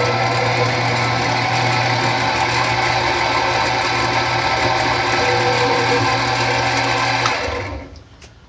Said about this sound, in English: We're going to drill a little center drill pilot hole.